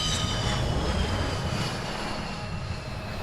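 A fighter aircraft roars past in an Ace Combat 7 video game cutscene, a loud, continuous jet engine rush with no talk over it.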